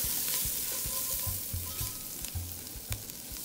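Onion and spices sautéing in a pot crackle with a soft sizzle, punctuated by regular thumping scrapes of a spoon stirring against the bottom, close and fairly quiet.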